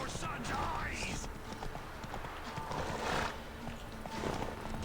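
Horses in a video game clip-clop and whinny amid outdoor game ambience, with hoof patter and a neigh near the start, while people talk over the action.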